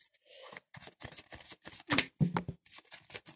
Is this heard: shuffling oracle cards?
yes